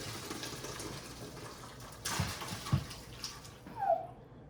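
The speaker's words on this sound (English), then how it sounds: "I've set up a large mixing bowl with a colander in it, and I'm gonna drain everything into that" Pork and its broth pour through a colander into a large mixing bowl, a close, splashing gush of liquid that surges in uneven bursts before ending with a last small slosh.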